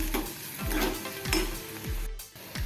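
Ginger-garlic paste with whole spices, green cardamom, a cinnamon piece and dried red chilli, stirred in a frying pan, a steady sizzle with a few rhythmic scraping strokes, close and moderately loud.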